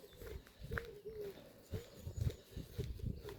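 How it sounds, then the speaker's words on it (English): Doves cooing softly at a distance in a village in Cheshire, a few low repeated calls over faint outdoor background. "Doves cooing."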